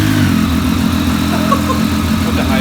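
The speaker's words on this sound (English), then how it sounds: "so we have to turn the bike on, unfortunately" A Triumph Daytona 675R motorcycle engine idles loud and close, a steady low throbbing hum holding even throughout with no speech over it.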